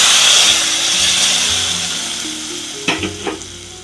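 Hot tempering is poured into a coconut-based tomato and dried shrimp curry, Kerala style, bringing a loud, close, steady sizzle that fades slowly, then a few clunks from the pan near the end, with no talking.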